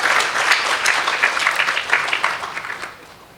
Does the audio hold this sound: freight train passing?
no